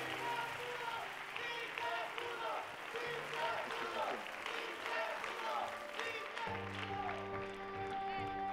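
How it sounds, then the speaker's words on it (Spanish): A studio audience on the TV show La Academia applauds, a faint, steady patter of clapping that runs under music throughout. "Un aplauso para Franceli, que ha tomado una decisión con el corazón."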